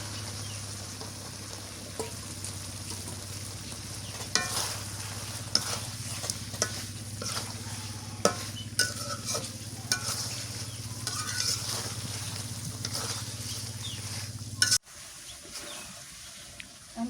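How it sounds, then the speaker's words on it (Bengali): Broiler chicken meat frying in a pan and being stirred, a steady close sizzle with repeated scraping clatters of the spoon, ending abruptly near the end when the heat drops away. "এখন এই যে ভাজা মাংসটা দিয়ে দিলাম"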